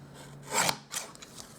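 A paper trimmer slices through ink-blended cardstock for a handmade card, giving a brief raspy rub, a short pause, then a second quieter scrape, close and alone.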